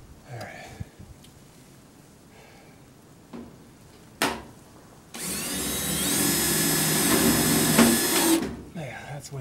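A power drill, set to the wrong setting, whirs in a sustained, strained burst for a few seconds while driving screws, preceded by short taps and handling noises, with soft talk around it.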